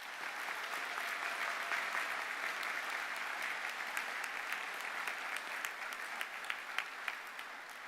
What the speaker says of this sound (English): let's give the university team a round of applause